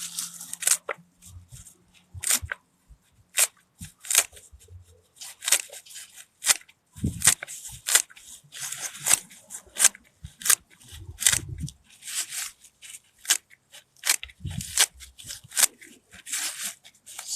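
Comfrey leaves being cut up by hand, with a long run of sharp, close snipping and crunching cuts in irregular bursts, separated by short pauses.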